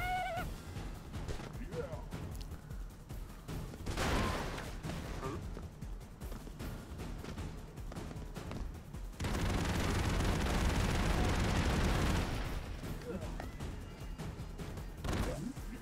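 Gunfire and explosions from the side-scrolling action game Broforce: dense crackling bursts, a loud blast near four seconds and a sustained roaring barrage lasting about three seconds, under a steady game soundtrack.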